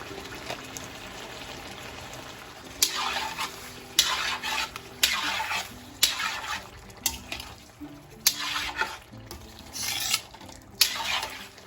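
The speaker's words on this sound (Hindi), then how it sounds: "मैं इसमें दही डालने लगी हूँ।" Greek yogurt stirred into boneless chicken karahi in a pan, a steady low sizzle under repeated scraping strokes of a spoon, each stir rising then fading, close and fairly loud with no talk.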